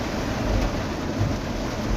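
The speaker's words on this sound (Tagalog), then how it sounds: "Ang lakas ng ulan talaga." Heavy rain pours down steadily during a dark storm on a road, a dense, constant wash of noise with low rumbling and no voices.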